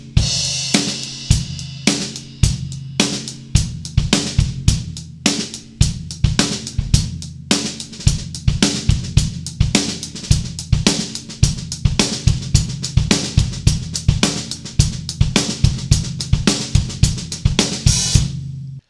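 A drum kit plays a steady groove, with crisp cymbal and snare hits over kick drum and quieter ghost notes on the snare tucked right after the backbeats, close and clear with no talking.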